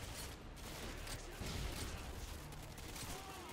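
A dense burst of rapid gunfire in Call of Duty: Modern Warfare 2 rattles continuously, loud and close, with no pause.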